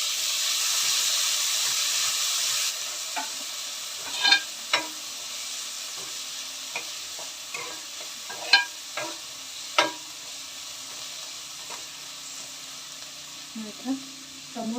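Tomatoes fry in a hot pan, giving a steady sizzle with scattered crackles and the clink of stirring, loud at first and then quieter.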